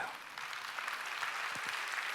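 A church congregation at a Wednesday worship service claps in a soft, diffuse burst that stays fairly distant, the patter continuing unevenly to the end.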